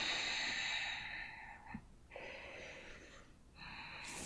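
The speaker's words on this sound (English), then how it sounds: "A couple more deep breaths." Deep, slow breathing during a yoga class, with broad airy inhales and exhales swelling and fading over several seconds, close and fairly quiet with no talk.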